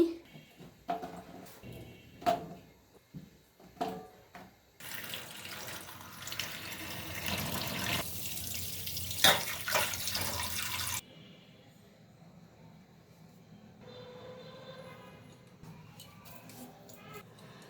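Squash and other vegetables washed under a running kitchen tap, with splashing water, drips and handling clatter, the stream starting and stopping.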